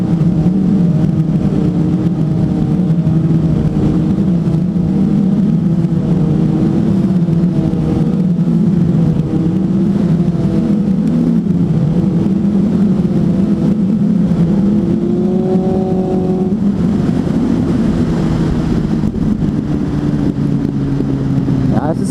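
A Suzuki GSF 600 N motorcycle engine runs loud and close, its pitch rising and falling through repeated revs and a sustained drone, heard alone throughout.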